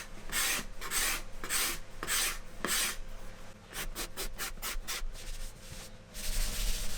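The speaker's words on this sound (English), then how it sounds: "I had to do some more scraping to remove it" Scraper rasping stain off an adjustable wooden shelf of an Ercol Giraffe room divider, a series of short, crisp scraping strokes in uneven rhythm, close and clear with no talk.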